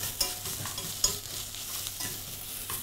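Mustard and oriental spices sizzling in a frying pan for a baked cauliflower dish, with a steady hiss broken by several scraping stirs, close and alone without talk.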